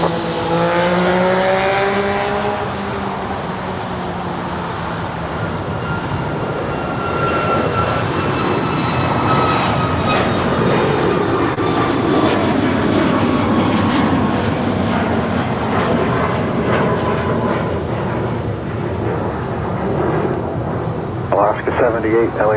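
A jet airliner takes off from runway 25 right at Los Angeles International Airport, a loud sustained roar with whining engine tones that swells and shifts across the whole stretch, heard close and steady.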